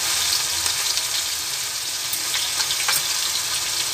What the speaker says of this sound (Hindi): कॉर्नफ्लोर डाल के फ्राई करते जाना आपको, कुछ नहीं चिपकता है तवे में।